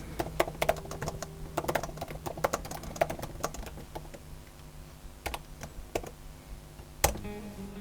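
Quiet, steady typing on a Remarkable Paper Pro keyboard folio, soft close key clicks in quick irregular bursts with brief pauses and a firmer tap near the end.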